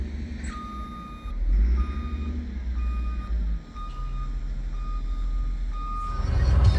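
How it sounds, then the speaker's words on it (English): A heavy truck hauling large chunks of waste concrete runs wide open across desert ground, its engine a loud continuous roar with a repeating reversing-style beep cutting through, no voices present. "I'm going wide open right now. This truck cannot go any faster"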